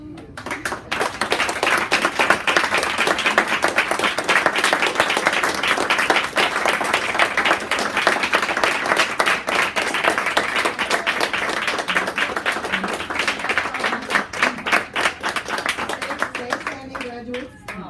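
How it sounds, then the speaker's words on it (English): A graduation audience bursts into sustained applause, many hands clapping densely and steadily for well over ten seconds before thinning out at the end, with faint voices underneath. "give Connie and her team a thanks, hearty thanks, and applause"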